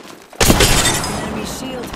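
Enemy shield breaking in the video game Apex Legends, a sudden loud crashing shatter after a short quiet lead-in, with a bright ringing tail fading under continued game noise.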